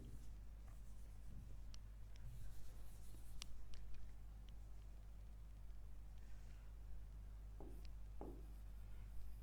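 Marker or chalk writing on a board during a Hindi machine design lecture on shear and crushing of a key: faint, intermittent scratchy strokes over a steady low room hum, with no talk.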